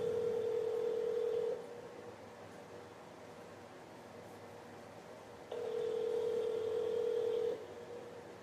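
A telephone call rings out unanswered, two long steady electronic ring tones separated by a few seconds of quiet line hiss.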